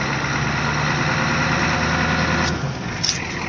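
A 1986 Ford F250 4x4 with the 6.9 IDI diesel idles steadily and close, a loud continuous rumbling clatter with a slight shift near the end and no talking.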